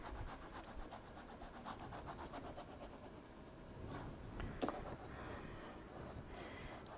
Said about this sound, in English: I'm gonna just do a little burnishing here.